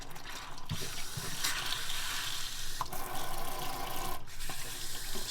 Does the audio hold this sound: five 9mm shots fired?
no